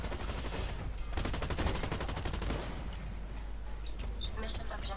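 Rapid gunfire in the Blacklight Retribution video game, dense sustained bursts rattling for a few seconds and then easing off, with players chatting over it.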